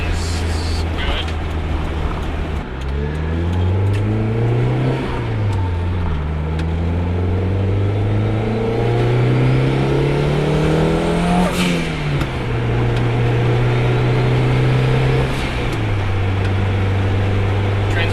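A turbocharged first-generation DSM car with a big turbo accelerating hard through several gears, engine pitch climbing and dropping with each shift, loud and close throughout.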